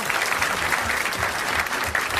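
A 1981 French television studio audience applauds a contestant from Grenoble, a dense and steady wash of clapping that holds at an even level throughout.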